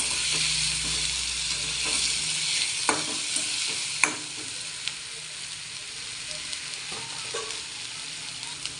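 Ridge gourd curry with black masala sizzles steadily in a pan on the stove, with a few sharp scraping clicks of a spatula stirring it, close up and with no talking.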